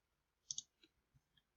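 A pair of quick computer mouse clicks while confirming a hole feature in Autodesk Inventor CAD software, followed by a few fainter clicks, close and quiet with no talking.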